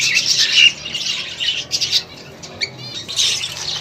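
Red-eye female budgie in a busy budgie colony, with dense, bright squawks and chirps from many birds overlapping near the microphone and a few short gaps between bursts.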